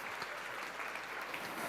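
Steady applause from a conference audience after a JavaScript talk, a soft but continuous ripple of many hands clapping with no voices on top.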